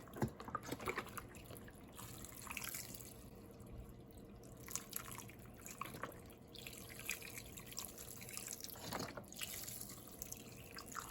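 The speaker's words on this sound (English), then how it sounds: "I'm just going to try to cover everything in the beef stock" Beef stock pours into a pot roast pot in faint, irregular trickles and drips of liquid. Quiet and close, with no talk.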